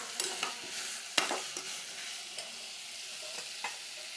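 Ingredients for pulao frying briefly in a pan, with a close, steady sizzle broken by light scraping stir strokes and a few sharp clinks of the spoon against the pan.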